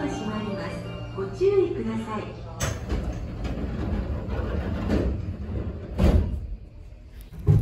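Doors closing on a Tokyu 8500 series commuter train built in 1976, departing Kasukabe station, with rumbling, clunking door thuds and rail hum under someone talking throughout.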